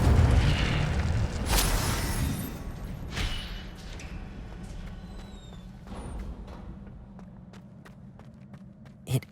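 An Incendio fire spell bursts in Hogwarts Legacy with a loud whooshing boom, followed by rumbling impacts that fade into quieter footsteps and scattered thuds.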